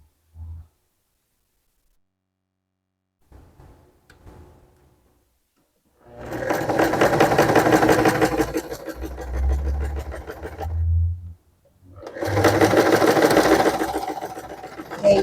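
A sewing machine stitches a dart on a skirt in two loud, rapid, close runs of whirring needle chatter, separated by a short pause, with faint handling noises beforehand and a little quiet talk around it.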